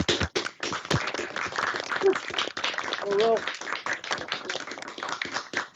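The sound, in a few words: applause for Ralph Schmidt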